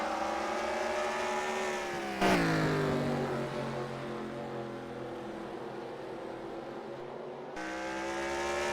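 Modified race cars on a dirt track at a New Year's bash, engines droning loudly with rising and falling pitch as cars roar past in a close, continuous pack.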